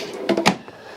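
A silverware drawer in a 2019 Coachmen Catalina Trail Blazer travel trailer kitchen slides open with a quick rattle of cutlery and a couple of short knocks, close and brief, with no talk.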